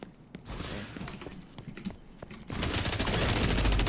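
Gunfire in The Division 2 PvP: scattered sharp single shots and impacts for a couple of seconds, then a loud, rapid automatic burst of rifle fire running to the end.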